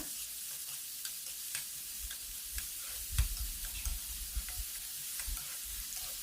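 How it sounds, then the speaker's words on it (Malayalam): Chopped onions sauté in a pan for an egg curry with a steady, faint sizzle, and a spatula scrapes and stirs at scattered moments throughout, with no talking. "ആ സവാള ചെറുതായിട്ട് ഇതുപോലെ കട്ട് ചെയ്തെടുത്തിട്ട് നമുക്ക് ഉപയോഗിക്കാം ഇനി നല്ല രീതിയിലൊന്ന് വഴറ്റിയെടുക്കുക"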